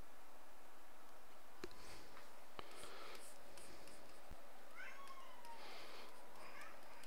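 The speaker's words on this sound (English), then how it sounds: "Cat's losing his mind." A house cat meows repeatedly in a few drawn-out, agitated cries, fairly faint and indoors, mixed with scattered soft taps and clicks nearby.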